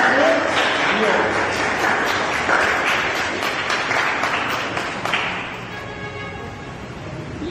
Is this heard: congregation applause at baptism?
yes